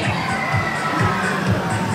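A crowd at the León state fair in Guanajuato shouts and cheers together in a loud, continuous roar, with overlapping voices and rhythmic swells, fairly close.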